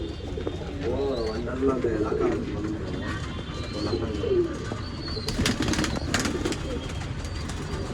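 Old line pigeons cooing in a loft, soft throaty coos repeated over several seconds, with someone talking nearby and brief wing flaps and rustling toward the end.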